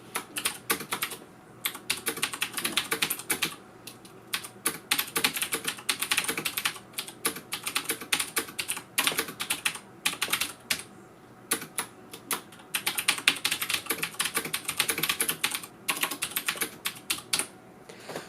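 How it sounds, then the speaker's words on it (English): Rapid, clicky typing on a CM Storm QuickFire Rapid mechanical keyboard with Cherry MX Blue switches, in bursts with short pauses, close and crisp, no voices. "I'm just going to start typing some stuff"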